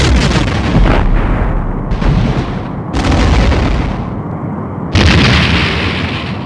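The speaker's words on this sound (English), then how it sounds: "The Romulan warbird has been destroyed." A Romulan warbird is destroyed by weapons fire in a Star Trek: The Next Generation space combat game, producing loud, heavy booming explosions that roll in repeated overlapping bursts, with a fresh blast near the end and no voices.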